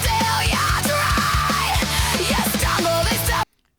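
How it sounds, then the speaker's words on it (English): Harsh scream singing in a loud, dense rock or metal tribute track, driving steadily over heavy instruments before cutting off abruptly into silence. "I did like the music until the scream singing started"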